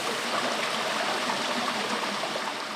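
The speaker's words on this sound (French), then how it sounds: "Une rivière permanente" An underground river flowing through a cave in Savoie, a constant rushing wash of water, steady and fairly loud with no voices.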